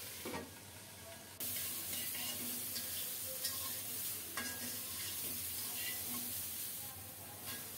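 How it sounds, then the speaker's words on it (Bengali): Cauliflower frying in a covered pan gives a steady, close sizzle with a soft crackle that runs throughout, with occasional stirring or scraping noises on top. "ঢেকে ঢেকে ফুলকপিটাকে সুন্দর মতো ভেজে নেব।"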